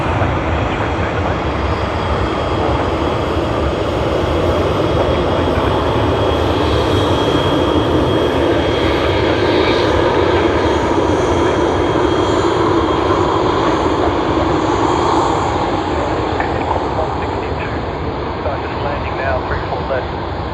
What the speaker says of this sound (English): we will be capturing Air New Zealand as they taxi past right in front of us to Terminal 1